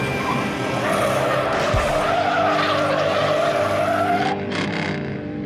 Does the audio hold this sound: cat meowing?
no